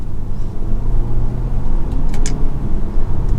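A 2023 BMW X2 GoldPlay Edition sDrive28i, front-wheel drive, pulls hard in third gear after a downshift, a steady low engine and road rumble heard from inside the cabin with faint ticking above it.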